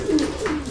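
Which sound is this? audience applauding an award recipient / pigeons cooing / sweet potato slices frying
pigeons cooing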